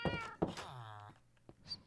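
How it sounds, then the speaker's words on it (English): Tamed cat in Minecraft meowing, two or three close, clear game meows in quick succession with a soft thunk near the end, no talking. "And I tamed this kitty."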